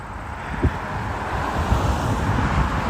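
Cars rumble past on a road beside Rouge National Urban Park in Toronto, a steady low traffic wash blended with heavy wind buffeting the microphone, with one brief louder thump early on.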